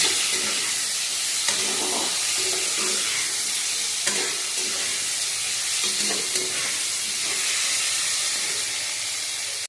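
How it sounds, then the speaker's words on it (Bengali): Potatoes frying in hot oil in a kadai give a loud, continuous close sizzle and hiss, with occasional stirring knocks and scrapes throughout. "আমি ভালো করে আলুগুলোকে ভেজে নিচ্ছি।"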